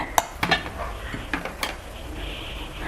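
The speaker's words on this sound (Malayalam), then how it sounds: "ഇതെല്ലാം കൂടി നന്നായിട്ടൊന്ന് മിക്സ് ചെയ്യുക" A spoon stirring a sugar, rice flour and chia seed scrub mixture in a bowl gives several sharp scraping clinks early on, then softer grainy scraping and rustling, close by with no talking.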